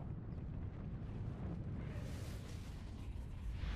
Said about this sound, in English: Nuclear bomb.